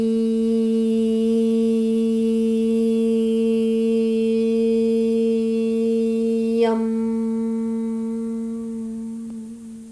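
A single voice chants the heart chakra seed mantra yum in a yoga class, holding one steady sustained tone for several seconds before a slight shift and a slow fade.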